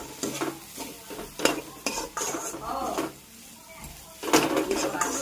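Rice flour and cumin being stirred into banana flower fry in a pan, with scraping, clinking utensil strokes in uneven bursts over a faint sizzle, fairly close.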